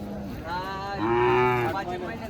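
A Khillar calf moos once, a drawn-out nasal call rising in the middle and tapering off, close by with a quiet outdoor background.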